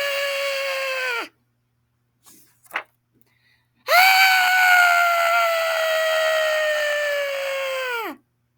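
A latke character in a Christmas story lets out two long, loud sustained screams, the first breaking off abruptly and the second held for several seconds before falling away, with a brief quiet gap between them.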